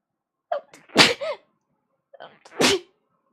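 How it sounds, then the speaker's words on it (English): Two sharp sneezes, each with a short breathy wind-up, about two seconds apart, close and clear against silence. "somebody asked for sneezes, and here they come."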